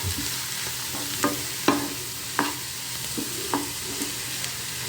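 Shredded cabbage fries in a pan for a mutton keema and cabbage fry, a steady close sizzle broken by several sharp scrapes and knocks of a spoon stirring against the pan.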